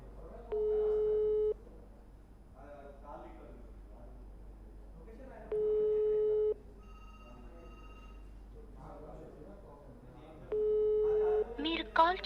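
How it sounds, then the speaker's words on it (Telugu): A telephone ringback tone repeats three times at even intervals, each about a second long, with quieter murmuring in between. "రింగ్ అవుతుంది ఫోన్."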